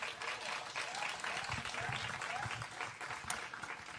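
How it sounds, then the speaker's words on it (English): Sustained applause from an audience at a Napa Valley wine tasting benefit, honoring a woman; a dense, steady wash of many hands clapping throughout, with faint voices mixed in underneath. "let's give her another round of applause"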